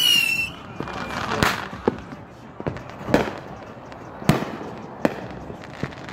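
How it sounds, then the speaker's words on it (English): Fourth of July fireworks bang and crackle outdoors, several sharp reports at irregular intervals with a whistling launch at the start, while people talk over the blasts. "We're running out of fireworks."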